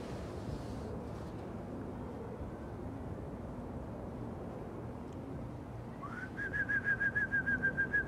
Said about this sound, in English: I don't think they're gonna hear my whistle.